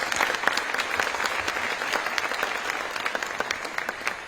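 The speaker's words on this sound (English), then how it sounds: "So let's give that group a round of applause." An awards-ceremony audience claps in a sustained, even round of applause, dense and steady for the whole stretch without letting up.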